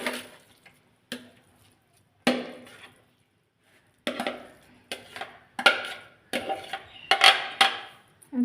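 Chicken khichuri being mixed in a pot with rice, lentils and boiled potato, giving a series of close, sharp scraping and clinking strokes of a spoon against the pot, separated by short pauses, with no talking.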